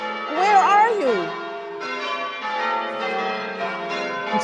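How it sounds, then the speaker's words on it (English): Bells ring out over a city in an old radio drama as a warning to evacuate, a sustained, layered metallic peal with a voice briefly rising over it at the start. "The bells you hear are ringing to warn the people to evacuate the city as Martians approach."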